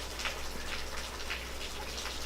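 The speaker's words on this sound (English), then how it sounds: "It's raining outside, you guys." Rain falls outside as a faint, steady hiss with soft scattered patters, heard from a distance with no talking.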